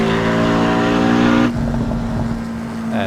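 A Porsche Cayman S engine in Assetto Corsa at the Nurburgring plays loud and close, a steady high rev that drops abruptly to a lower, rougher idle-like drone.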